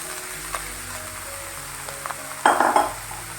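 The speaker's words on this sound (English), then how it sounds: "Now I will add boiled rice to this." Boiled rice for chicken fried rice hits a hot pan and fries with a soft, steady sizzle, punctuated by light utensil clinks and a brief, louder burst of sizzling and tossing near the end.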